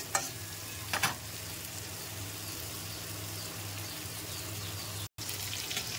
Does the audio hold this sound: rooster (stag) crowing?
no